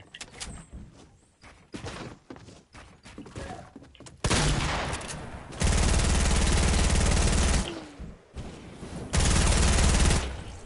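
Bursts of rapid video-game gunfire from a first-person shooter, starting with scattered shots and then loud sustained automatic fire in long stretches, separated by brief pauses.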